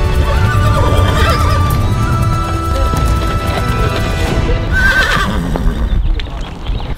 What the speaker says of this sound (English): More horses! So many horses!